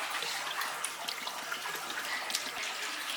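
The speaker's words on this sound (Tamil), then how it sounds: "2 லிட்டர் அளவுக்கு நல்லெண்ணெய் ஊற்றிக்கலாம்." Sesame oil, about two litres, pours steadily into a cooking pot for temple-style tamarind rice, a continuous close liquid gush with no talk.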